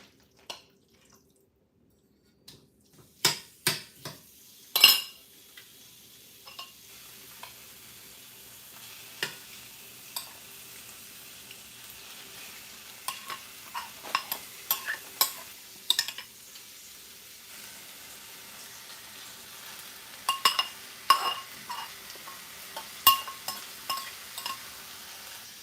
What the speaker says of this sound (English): And we'll add the salmon to the pan.